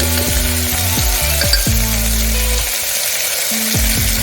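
Pumpkin and green peas fry in a pan with spices such as turmeric, chili powder and garam masala, giving a steady close sizzle broken by a few clanking stirs of a utensil, with no talking.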